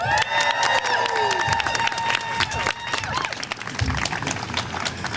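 A crowd at a lawyers' march rally cheering and clapping outdoors, with scattered whoops and steady applause and a voice talking through the noise.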